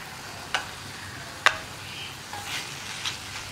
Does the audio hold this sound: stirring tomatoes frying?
yes